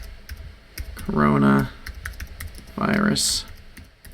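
Quiet computer keyboard typing, scattered light key taps, plays while a person speaks over it in a home setup.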